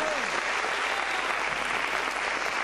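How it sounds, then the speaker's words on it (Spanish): Church congregation at an evangelical crusade applauding in praise, a dense continuous clapping that fills the room from start to end, with a brief voice trailing off at the very beginning. "Le da un aplauso de alabanza al Señor."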